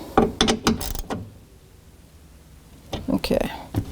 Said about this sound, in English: I'm just bottoming out the screws, and I'm going to give it a real faint tightening.